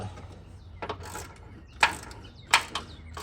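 A ratchet wrench tightens a nut while a 2013 Chrysler 200 alternator is reinstalled, giving short bursts of close mechanical clicking with pauses between strokes.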